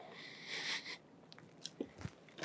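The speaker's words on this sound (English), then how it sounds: "You take a cracker, you dip the cracker, you scrape up that cream cheese, and you put it in your mouth." Someone bites into a cracker dipped in Philadelphia cream cheese and chews. A few quiet, close crisp crunches come at uneven intervals against near silence.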